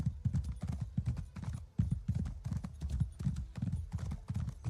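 Steady rhythmic horse hoofbeats clopping along at a trot in the video game Elder Scrolls Online, loud and close, with no talking over them.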